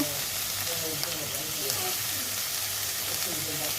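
Onion greens fry in a pan with salt, turmeric and green chilli, giving a steady close sizzle throughout with no talking.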